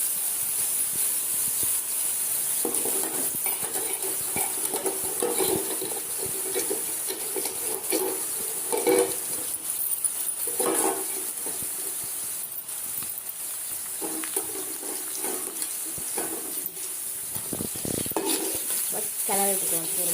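Grated carrot sautéed with onions in a pan for carrot poriyal gives off a steady hiss of steam and sizzle, with intermittent scraping stirs and small clinks throughout.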